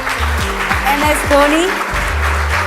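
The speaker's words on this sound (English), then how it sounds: "Big round of applause." An audience at an interview with M.S. Dhoni breaks into steady applause that carries through the whole moment, with someone speaking over it and low background tones underneath.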